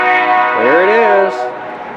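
A BNSF railroad train horn sounds a sustained, loud harmonic blast for over a second, with a slight pitch bend as it fades, heard outdoors against steady background noise.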